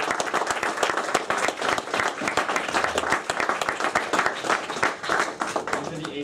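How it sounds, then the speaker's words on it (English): An audience at a Chicago presentation on the wars in Transnistria and Ukraine applauds its speakers, dense continuous clapping from a roomful of people holding steady for about six seconds. "can we have one more round of applause for all of our speakers?"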